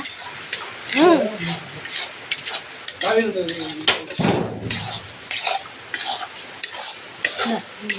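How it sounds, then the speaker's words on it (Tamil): Beetroot and apple are sautéed in an iron pan, with repeated metallic clanks and scrapes of stirring in an uneven rhythm, close by, while people talk and someone coughs. "பீட்ரூட்டு, ஆப்பிள் இதெல்லாம் போட்டு இரும்பு வானலில் வதக்கிக்கிட்டு இருக்கோம்"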